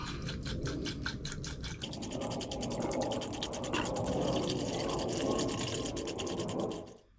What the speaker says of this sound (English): top the system back up